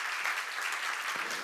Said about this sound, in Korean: 박수를 하나 드리세요